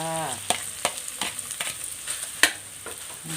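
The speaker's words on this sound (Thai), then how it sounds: "แล้วก็ใส่ข้าวลงไปเลยจ้า" Rice is stir-fried in a pan with fermented fish, egg and onion, a steady sizzle punctuated by repeated clacking scrapes of a spatula against the pan, close and alone.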